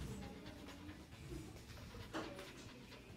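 A dog pants and whimpers softly at a veterinary clinic while waiting to be seen for a limp, the breathing steady and close with brief whines over a busy room background.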